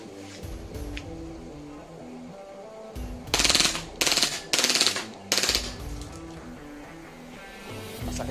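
WE G18c gas blowback airsoft pistol firing full auto, four loud rapid bursts of sharp cracking shots in quick succession, each lasting about half a second, over faint background music.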